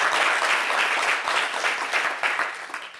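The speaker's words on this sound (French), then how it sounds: "Oh mon Dieu, applaudissez pour ce gars, il chante trop bien." An audience claps for a singer at a Congolese music show, a dense burst of close applause that stays lively for a few seconds before thinning out.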